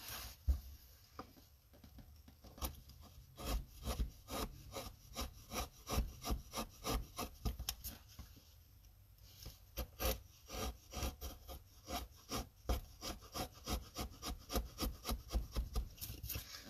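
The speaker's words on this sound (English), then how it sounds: "So the way I hold the chisel is allowing me to take off just swaths of material that don't go very far." A hand chisel carving a wood relief, giving a long series of rapid, close scraping and paring strokes in bursts with short pauses between them, and no talking.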